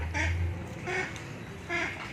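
Three loud nasal quacks from a nearby duck, spaced evenly about three-quarters of a second apart.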